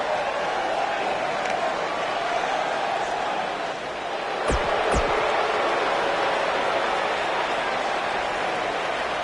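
Arena crowd noise in the WWE 2K19 wrestling video game, a loud, steady roar that continues without a break, with two brief sharp hits partway through.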